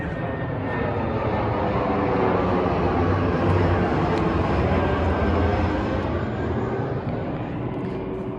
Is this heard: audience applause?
no